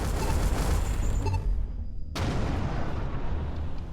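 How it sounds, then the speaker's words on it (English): Missile turret fire pounds at a spaceship in Everspace 2, a dense barrage of loud booming blasts that drops out briefly, then resumes with a sharp hit and continued rumbling, with no voices. "What the heck's shooting at me? Must be a missile turret, I'm guessing."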